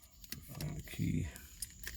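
Car keys for a Mazda RX-7 FD jingle in short bursts close by, quiet, amid brief muffled handling and a bit of voice.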